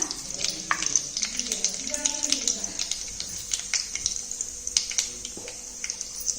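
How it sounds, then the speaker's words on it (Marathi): Mustard seeds sizzling and popping in hot oil in a pan while making Konkani jackfruit vegetable curry, a steady bright crackle with scattered sharp pops, close and fairly loud, with a faint voice in the background. "तेल तापत ठेवलाय, भांडा ठेवून. आता त्याच्यात मोहरी टाकणार."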